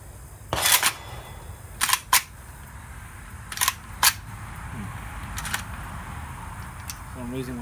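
An Arsenal SAM7R rifle fires several sharp, loud reports at irregular intervals, some in quick pairs, over steady background noise.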